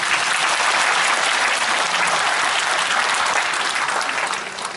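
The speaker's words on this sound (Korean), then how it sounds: "다시 한번 박수를 부탁드리겠습니다." A large audience applauds steadily at a company's 20th anniversary concert, a dense, loud wash of clapping that holds for several seconds before beginning to fade.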